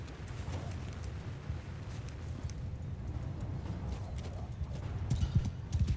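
Horse hooves clip-clopping during a battle in Mount & Blade II: Bannerlord, a steady, fairly loud patter of hoofbeats running throughout and growing heavier and closer toward the end.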